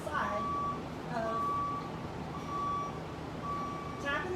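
A vehicle's backup alarm beeps steadily in evenly spaced tones over a constant engine rumble, sounding from a moderate distance outdoors.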